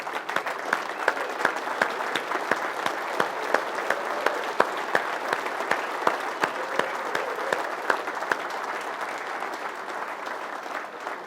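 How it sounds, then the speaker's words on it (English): A conference audience at a TST automotive event gives a standing ovation, with sustained dense clapping from a large crowd indoors, loud and even throughout. "Can we all show him and have a standing ovation for G"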